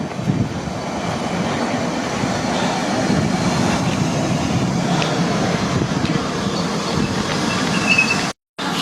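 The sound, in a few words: London Underground Piccadilly line train arriving at night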